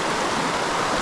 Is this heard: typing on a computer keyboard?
no